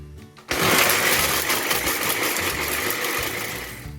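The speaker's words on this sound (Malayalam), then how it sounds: "ഗ്രേപ്സ് നമ്മൾ മിക്സിയുടെ ജാറിലിട്ട് അടിച്ചെടുക്കുകയാണ് ചെയ്യുന്നത്" A mixer grinder switches on abruptly and runs with a loud, steady motor whir and churning for several seconds, blending grapes without water.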